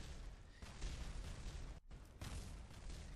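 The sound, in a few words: rocket parts exploding on crash landing, from video game Kerbal Space Program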